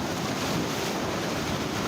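Surf waves break near kayaks off Pomene, Mozambique, a dense, steady wash of whitewater with wind noise across the microphone, loud and close, with no voices.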